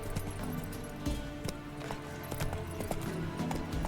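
Steady hoofbeats from Roach, the horse in The Witcher 3, a quick clip-clop rhythm running the whole time under busy game music and ambience.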